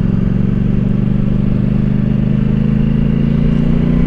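A CF Moto 450SRS motorcycle engine runs close and loud with a steady throbbing rumble, held at gentle revs during break-in, with no speech over it.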